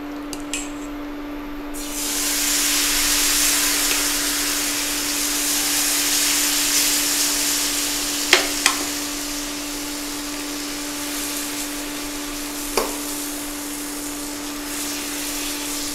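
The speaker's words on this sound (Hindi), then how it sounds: "तो गर्मा गर्म पैन पे डालते हैं डोसा।" Dosa batter hits a hot pan and a loud, steady hiss of sizzling starts abruptly, running on evenly with a constant hum beneath and a few sharp clicks of utensils.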